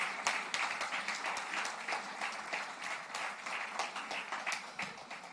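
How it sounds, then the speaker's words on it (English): Audience applause at the Devi Awards 2014 ceremony, a sustained wash of many hands clapping steadily throughout, moderately distant in a large hall. "A big hand of applause for Jyotsna Suri, please."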